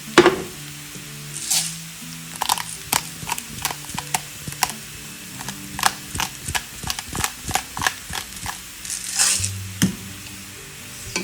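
Potatoes fry in a hot pan with a constant sizzle, punctuated by a rapid series of clacking spatula strokes as they are stirred, close and moderately loud.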